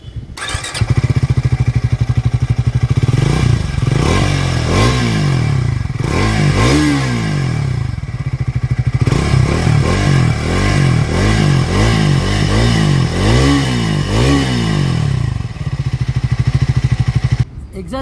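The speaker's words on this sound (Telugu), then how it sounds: "ఇప్పుడు బైక్ ఒక ఎగ్జాస్ట్ విందాం." A Triumph Scrambler 400 X single-cylinder motorcycle idles loudly with a deep thumping exhaust, then revs repeatedly in rising and falling bursts over about eighteen seconds, with a voice talking over it.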